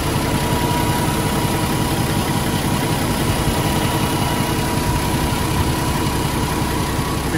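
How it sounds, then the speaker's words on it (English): A PACCAR MX13 485 hp diesel in a 2016 Kenworth T680 truck with a 13-speed transmission idles steadily, a close, even, continuous rumble with a faint high whine and no talking. "This is a diesel engine. And yet, listen to it purring away."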